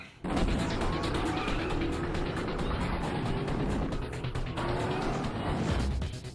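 The Batman Tumbler from The Dark Knight drives by with a loud, steady engine roar and heavy rumble that runs almost unbroken from start to finish, close and dense with no talking.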